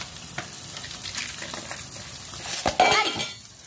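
Ampalaya with fried garlic cooking in a pan, a close, continuous sizzle with soft scrapes and clinks of a utensil, then a louder clatter of cookware toward the end.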